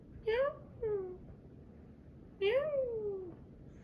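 A cat meows three times, close and fairly clear, with two short calls near the start and a longer drawn-out meow after a pause, over a quiet background.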